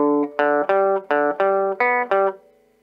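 Electric guitar playing a short rockabilly lick, about seven clean, crisp plucked notes in a quick bouncing rhythm that ring out at the end, heard alone and close up with no talking.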